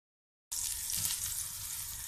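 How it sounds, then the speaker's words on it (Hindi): Eggplant slices sizzle in hot oil in a pan over medium-low heat, the bright crackling hiss starting abruptly after a moment of silence and continuing steadily. "इसी तरह के मैं तमाम बैगन फ्राई करूँगी।"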